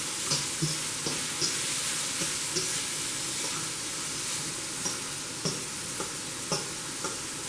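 Garlic and onions sauté in a pan with a constant soft hiss of frying, and light, periodic scrapes of stirring can be heard through it.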